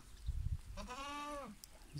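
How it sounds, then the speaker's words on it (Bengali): A single goat in Oman gives one drawn-out, wavering bleat lasting under a second, fairly close and clear, preceded by soft low thumps and background noise. "ছাগল"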